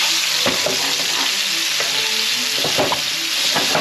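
Steady loud sizzling of fish searing in a hot oiled pan, with occasional soft scrapes and taps of a utensil, no voices.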